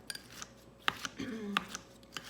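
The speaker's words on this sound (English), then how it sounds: "I'm gonna take my kitchen shears, and before I do anything, I'm just gonna start just kind of like chopping this up" Kitchen shears chop slightly frozen strawberries in a cereal bowl, giving a few sharp, close snips and clicks at irregular intervals, with soft scraping in between.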